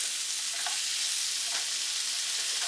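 Onions and potatoes fry in a pan for a potato omelette, a dense, even, close sizzle that holds steady throughout, with faint stirring touches and no voices.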